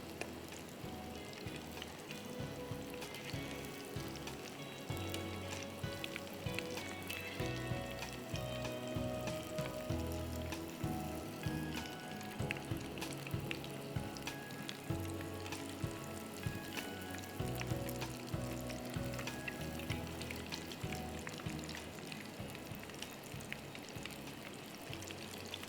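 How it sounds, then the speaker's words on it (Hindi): Parmesan cheese bombs fry in hot oil, giving a faint, steady bubbling sizzle that continues evenly throughout with no talking. "ख्याल से फ्राई कीजिए, टूटना नहीं चाहिए।"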